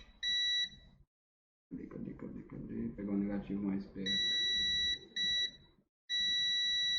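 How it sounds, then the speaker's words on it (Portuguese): A multimeter set to continuity gives loud, steady electronic beeps while probing short-circuited lines on a Samsung SM-A235F phone board, several sustained tones broken by short gaps, with someone talking between and under them. "Pegar aqui a escala de continuidade, mais tranquilo para ouvir o bip aí, né?"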